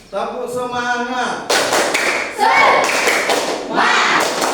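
A classroom group does a rhythmic cheer clap: a voice calls out first, then loud bursts of sharp clapping and thuds come in quick rhythmic groups, mixed with shouting voices.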